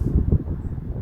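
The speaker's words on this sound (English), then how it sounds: "Really, really sorry about the wind." Steady outdoor wind buffeting the microphone beside a Vauxhall Corsa during a car battery change, a low rumbling roar throughout with no other sounds.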